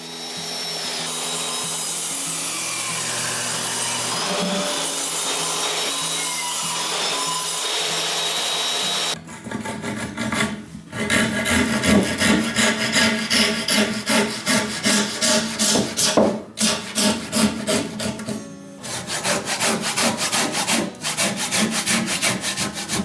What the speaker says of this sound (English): I'm starting by cutting the tenons for these columns. This machine's got power. It cuts straight through in one go